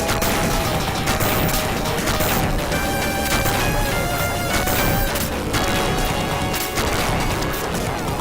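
Dense, continuous retro game gunfire and crashing effects from the boss Revolver in Gunstar Heroes, loud and unbroken throughout with no voices.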